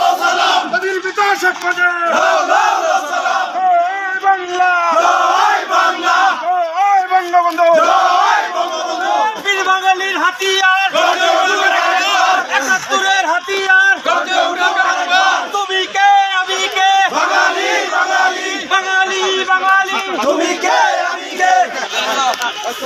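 A large crowd at the national memorial chants Joy Bangla slogans, many voices shouting together in loud rhythmic bursts that continue without a break.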